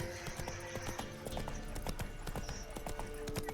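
Horse hooves clip-clop steadily in a quick, even rhythm while riding in The Witcher 3: Wild Hunt, with game ambience underneath and no talking.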